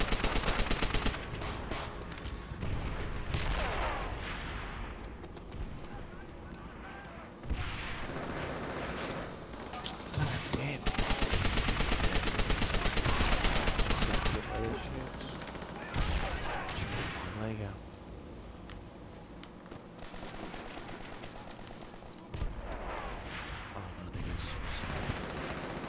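Machine-gun and rifle fire in Call of Duty: World at War team deathmatch: dense, continuous volleys with heavy bursts and brief lulls across the whole stretch, loud and close, with occasional talk beneath the shooting.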